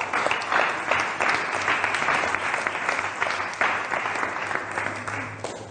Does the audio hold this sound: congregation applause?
yes